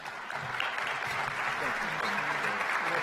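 An auditorium audience applauds steadily to welcome NASA Administrator Bill Nelson onstage at a NASA and DARPA rocket propulsion announcement, a continuous broad patter of clapping with a faint murmur underneath.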